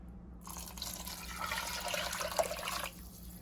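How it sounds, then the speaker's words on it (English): Water pours into a pot to make broth, a steady splashing stream lasting a couple of seconds before stopping, heard close and clear with no talk. "4 more cups of water."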